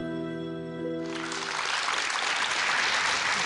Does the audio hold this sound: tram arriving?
no